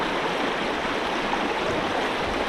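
A shallow stream flows steadily nearby, a constant broadband rush and gurgle of water over rocks, even and unbroken.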